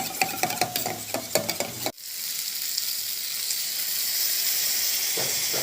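Soy sauce and tomato sauce for chili chicken in a pan: a few sharp spoon taps and clinks, then a loud, steady sizzle and bubbling that runs without a break to the end.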